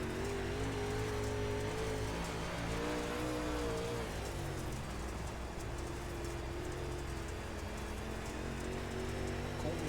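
Onboard audio from the 77 UMP dirt race car on a dirt track, its engine droning steadily and loud throughout with a constant rough wash of noise and no clear revving peaks.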